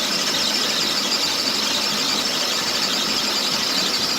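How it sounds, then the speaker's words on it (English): A steady, continuous high-pitched squeal from a Chevrolet Impala with a persistent leak, loud and unbroken throughout with no pauses and no talking. "I'm wondering what that squealing sound is."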